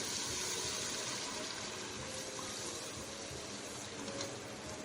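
Water mixed with meat stock is poured steadily onto soaked rice for beef pulao, a continuous loud splashing gush lasting throughout without pause.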